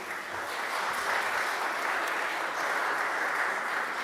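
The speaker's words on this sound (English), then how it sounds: "We can applaud to him." A conference audience at a chess and business strategy event gives a speaker sustained applause, an even, continuous roar of many hands clapping at moderate distance.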